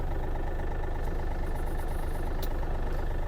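A Yanmar AF-330 mini tractor engine idles steadily nearby with an even, rumbling drone. A couple of faint clicks sound in the background.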